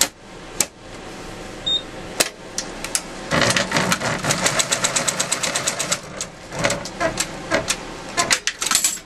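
A sewing machine stitches a quilt seam, with a fast, steady mechanical patter that starts after a few scattered clicks and runs in short bursts to the end, close and fairly loud.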